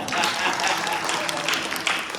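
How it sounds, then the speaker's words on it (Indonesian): Applause from a church congregation during a sermon, a steady wash of clapping that fills the whole short stretch, with voices mixed in. "Kasih tepuk tangan dong."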